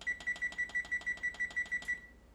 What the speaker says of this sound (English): I set my timer for 12 minutes